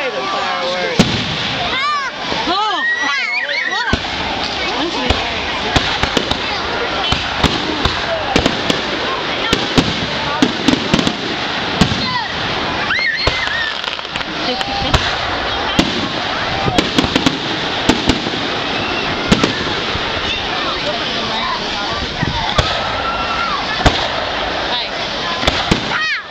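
Fourth of July fireworks in Tallapoosa, Georgia, bursting and crackling continuously with dense rapid pops and booms, loud and close, with people talking in the crowd.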